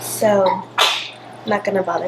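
A single sharp sneeze bursts out between bits of nearby speech.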